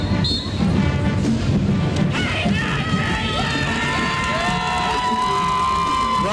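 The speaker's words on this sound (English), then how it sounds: "Crowd appreciating that, giving them a nice hand" A parade crowd at Tulip Time in Holland, Michigan cheers and applauds the Zeeland High Marching Band, a loud, sustained roar with claps and shouts, with whistle-like tones rising near the end.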